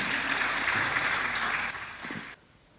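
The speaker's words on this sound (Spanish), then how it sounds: "a Rodrigo Torres, un aplauso para él" An audience at a talk claps steadily for a couple of seconds, then the applause cuts off abruptly into near silence.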